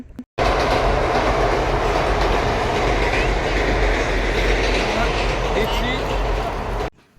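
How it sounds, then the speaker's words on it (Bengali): A train rumbles steadily past beside a flower garden, a loud continuous roar of wheels and carriages lasting several seconds before cutting off. "আর এই দেখো ট্রেন"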